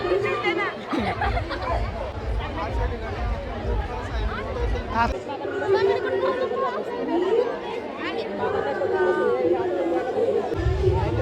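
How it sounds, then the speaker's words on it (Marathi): Busy crowd chatter at the Baramati marathon venue, a close babble of many overlapping voices with nearby people talking throughout. "लय गर्दी झाली गड्या व्यस्त झालंय सगळं"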